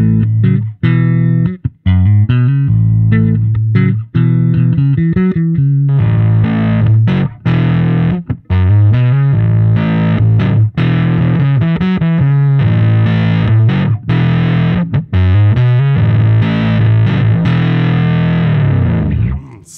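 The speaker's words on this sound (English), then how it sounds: "now it's a brilliant sounding fuzz" An electric bass played through a StoneDeaf Q Boost pedal on its vintage fuzz side, with the frequency boost adding a low-mid bump, gives thick, buzzy notes and short phrases, loud and continuous with brief gaps.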